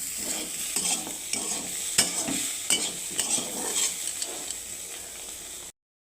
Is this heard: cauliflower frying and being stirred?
yes